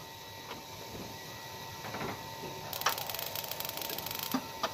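Faint, rapid ticking clicks from the igniter of a Paloma gas water heater start partway through and continue steadily over a soft background hiss, with a few scattered clicks before.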